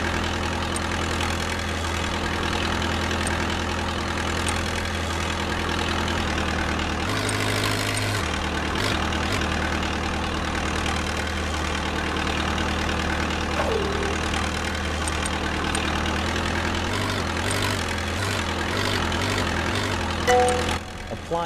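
A forklift engine idles steadily while the truck reverses in a virtual reality safety training simulation, a continuous low hum with a brief change in pitch partway through, near and constant with no talking.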